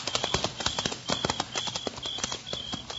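Horse hooves clip-clop at a steady trot as a radio drama sound effect in a Wild Bill Hickok western episode, with crisp, evenly spaced hoof strikes continuing throughout.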